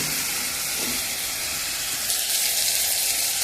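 Onions sizzling in a hot pan, frying alongside cucumber and tomato for a sambar-style dish: a steady, dense hiss that holds throughout and brightens slightly near the end, with no talking.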